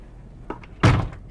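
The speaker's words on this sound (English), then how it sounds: "Close the door." An RV refrigerator freezer door shuts with a close, solid thunk after a faint light rattle, a single short impact in a quiet interior.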